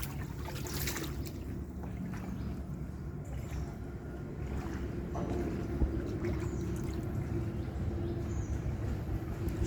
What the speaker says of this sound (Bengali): কীভাবে পানির স্রোত নামতেছে।